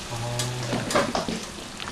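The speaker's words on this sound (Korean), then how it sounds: "이게 웬만한 중국집에서는 이렇게 전부 앙금을 만들어가지고 이렇게 탕수육을 튀기거든요." Battered tangsuyuk, Korean sweet and sour pork, deep-frying in a large vat of oil at a busy restaurant kitchen, with a steady, close crackling sizzle and a few clattering bumps over a low hum.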